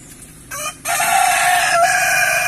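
A farm rooster crows loudly and close, a single drawn-out call after a brief clucking note, with no other voices.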